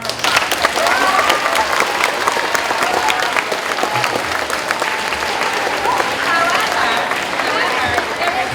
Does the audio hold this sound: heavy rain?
no